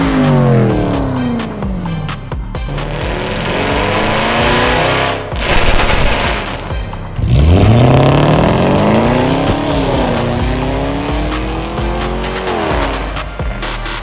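A Range Rover SVR with a stage 2 tune, downpipe and titanium Veleno catback exhaust revs hard several times, loud rising and falling engine sweeps with crackles between, heard close and without talk.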